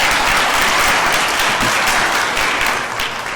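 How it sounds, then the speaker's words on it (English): A graduation ceremony audience breaks into steady, dense applause that fills the room for a few seconds before it begins to taper. "So a warm round of applause for Mrs."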